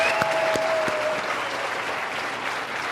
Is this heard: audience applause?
yes